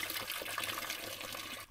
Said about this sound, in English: 55 gallon barrel filled up. It's going into the overflow.